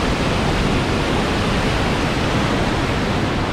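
Rushing floodwater pouring toward the ocean during Garden Route floods, a loud, unbroken roar of turbulent water filling the whole stretch with no voices.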